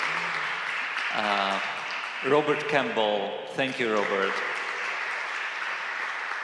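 Conference audience applause at a culture congress on language and war, steady clapping running beneath someone speaking names and thanks, continuing after he stops.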